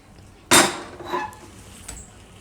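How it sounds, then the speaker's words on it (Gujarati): A metal pressure cooker holding pav bhaji vegetables is set down on a gas stove with one sharp close clank, followed by a softer knock and a faint rattle. "તો આને આપણે હવે મૂકી દેવું કુકરને ગેસ ઉપર."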